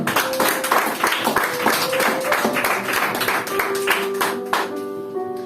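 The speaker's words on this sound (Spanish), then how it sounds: "Bríndele un aplauso al Señor." A church congregation claps in praise, the rhythmic hand claps steady and fairly loud over sustained music tones, with the clapping continuing throughout.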